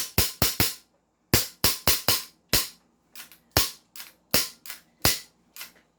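An upgraded HK G28 airsoft rifle fires a series of sharp, close, loud shots in quick bursts of two to four, with short pauses between groups and no talking.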